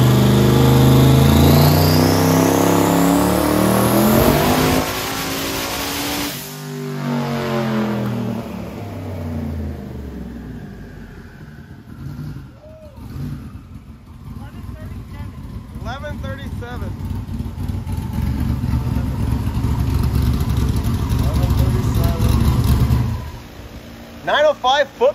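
A car with a 388 LSX stroker V8 roars loud and close, revving hard, dropping to a rough idle, then building back up, with voices around it.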